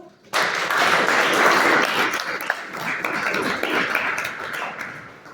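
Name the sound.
audience applause for a panel speaker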